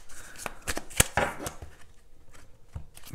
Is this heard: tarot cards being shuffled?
yes